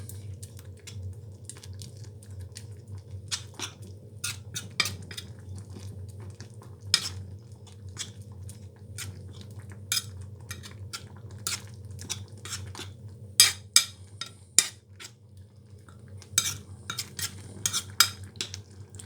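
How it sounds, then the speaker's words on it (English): A spoon stirring the final part of a thick mash of garden lentils and vegetables in a pot, giving repeated close clinks and soft scrapes over a low steady hum, with no talking. "So this is the final part of the mash. So let me stir it in."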